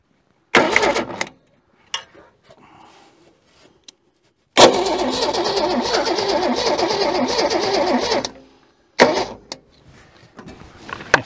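An old Holden car engine that sat in a junk yard for decades cranks in several short bursts, then catches and runs loudly for a few seconds before dying, followed by further brief cranking attempts.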